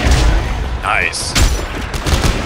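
A force gun fires in the Dead Space 3 video game, a loud blasting burst set among dense game effects and a short tonal cue.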